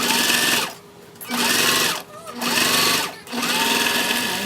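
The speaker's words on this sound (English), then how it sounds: "We're gonna top stitch that all the way down at 1/8 of an inch." A sewing machine top stitching bag fabric runs in three bursts of fast, even whirring, each separated by a short pause, close and loud.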